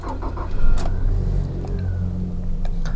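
A 2011 Nissan Serena C24 starts up: a low engine rumble rises after the starter turns, then settles into a steady idle heard from inside the car, with a few short clicks and faint mechanical ticks.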